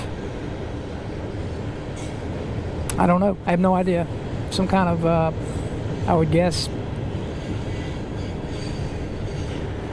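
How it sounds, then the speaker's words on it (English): A freight train rumbles past steadily throughout, with a voice talking over it in the middle. "there's your train for today"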